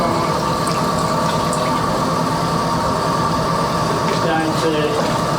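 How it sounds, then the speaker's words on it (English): A Rhino Linings MK15 spray pump running during a flush procedure, a loud, continuous mechanical drone and hiss throughout, with a voice talking over it near the end. "so we just want to turn our pump back on"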